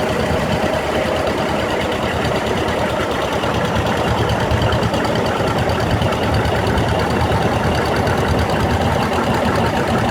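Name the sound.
antique farm tractor engines revving and idling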